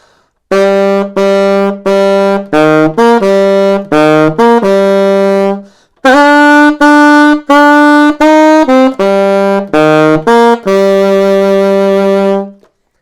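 A solo alto saxophone plays a slow, menacing march melody, loud and close, with crisp repeated notes in two phrases and a long held final tone.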